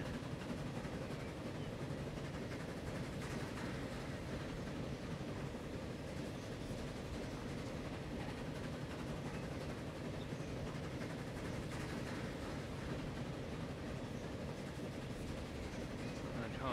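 A train runs in the Transport Fever game with a continuous, faint rolling rail rumble and soft clickety-clack that stays even throughout, with no talking over it.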